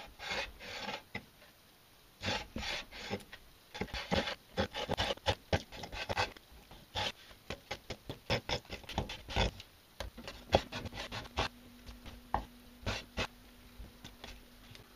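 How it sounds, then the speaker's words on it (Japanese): Knife cuts through a fish with its skin left on, slicing it into thin strips with blood-line bones; many quick rasping chops and scrapes on a board, close and irregular, with no talking. "骨切りを兼ねて適当な幅にこう細く切りましょう"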